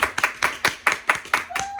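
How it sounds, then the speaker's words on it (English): Clapping sound effect in a studio interview: about eight sharp, evenly spaced hand claps, close and loud, with a faint tone briefly entering near the end. "Clap it up, add clapping sound effects."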